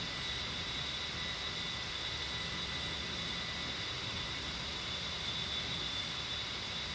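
Jet aircraft engine in the DCS flight simulator, a steady loud roar with a high whine holding across the whole stretch, no voices over it.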